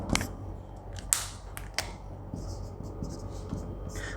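Pen scratching out an answer on paper, close and quiet, with short strokes and taps in an irregular rhythm.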